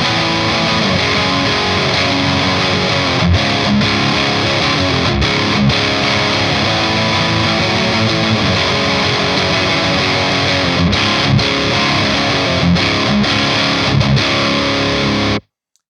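A heavily distorted electric guitar runs through a Synergy DRECT preamp module on its red channel, a modern high-gain rectifier tone: a thick, loud, continuous wall of crunchy chugging and chords with brief gaps, stopping abruptly at the end.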